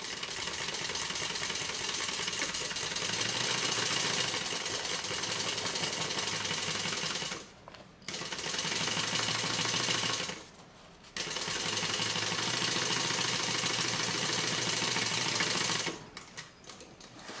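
A sewing machine stitches backward along a handbag seam in long, steady runs of rapid mechanical clatter, close and loud, broken by two brief pauses and stopping near the end.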